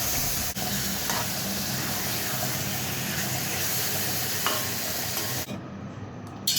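Fish is sautéed with spices in a pan, a dense, continuous sizzle with stirring noises throughout that drops out abruptly near the end.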